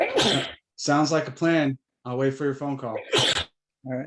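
One sharp sneeze bursts out during a community advisory meeting, brief and close, set among a man's ongoing speech.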